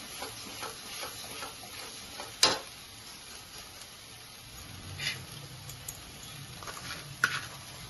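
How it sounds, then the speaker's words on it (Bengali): Masala with added water is stirred in a pan for paneer butter masala, giving soft, continuous sizzling and spoon scraping with a couple of sharper knocks against the pan. "খুব নাড়তে হবে, নাহলে মশলাটা লেগে যাবে।"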